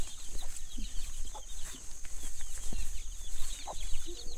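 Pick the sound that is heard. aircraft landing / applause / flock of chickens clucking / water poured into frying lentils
flock of chickens clucking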